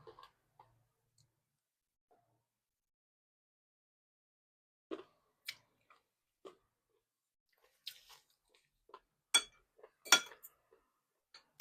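Sparse, crisp crunches and clicks of chewing on stewed chicken bones, irregular and fairly close, growing more frequent after a quiet start.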